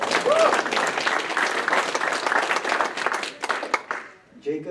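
An audience applauds steadily for about four seconds at a ceremony, with dense, continuous clapping that thins out and tapers off near the end.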